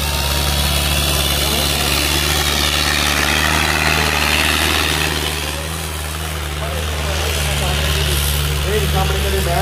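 A tractor engine runs in a village setting, a loud, steady low drone with a slight dip midway, while voices are heard faintly over it.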